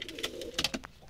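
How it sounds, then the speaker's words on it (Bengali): A wild female Jalali pigeon cooing at close range, a short run of soft rhythmic coos with no voices over it. "এখানে একটা জঙ্গলি জালালি বোনা কবুতর মাদি এইভাবে বসে আছে"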